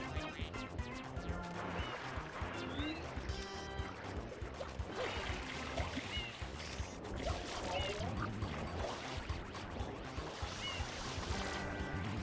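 Water spraying in the Super Mario Sunshine video game, a steady gushing hiss mixed with game music and effects, with a voice speaking over it.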